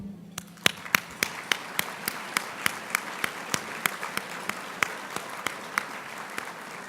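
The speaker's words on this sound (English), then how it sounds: "do a round of applause for every single one of you" An audience claps at a gathering honoring World War Two veterans. The claps are sparse, distinct and moderately loud, sounding at a fairly steady pace without talk.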